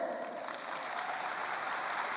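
An audience at a business talk in Petrolina claps steadily in a dense, even wash of applause throughout.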